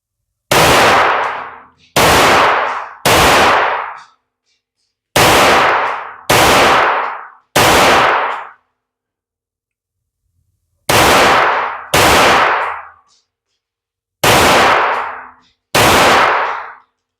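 Walther P22Q pistol firing CCI Uppercut rounds, ten loud sharp gunshots in uneven clusters of two and three with short silent gaps between groups, close by and alone.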